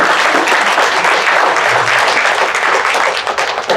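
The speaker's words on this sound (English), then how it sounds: "Everyone, let's applaud JD." A loud, dense round of audience applause at a youth entrepreneurship challenge as winners are about to be announced, steady and close throughout with no speech over it.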